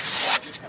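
A spatula scrapes excess acrylic patch off a polystyrene block render, giving a short, close, rough rubbing sweep that fades away quickly.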